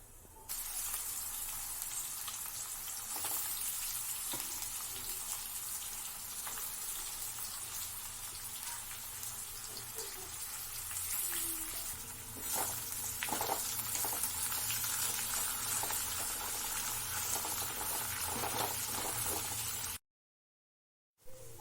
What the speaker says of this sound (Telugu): చూడండి కాకరకాయ వేగిపోతున్నాయండి